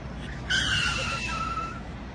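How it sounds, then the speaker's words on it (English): A short, piercing tire screech with a sustained tonal blare like a car horn, lasting just over a second, fairly faint over steady background noise as a car nearly hits a pedestrian crossing the street. "she jumps in fright to the screeching of car tires and a loud car horn"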